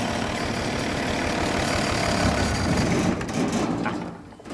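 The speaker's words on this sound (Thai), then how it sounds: "เดี๋ยวดับเครื่องก่อนเนาะใส่เกียร์ว่าง" Engine idling in neutral gear on a water-pumping rig, a steady low rumbling drone that holds for several seconds before dropping off near the end.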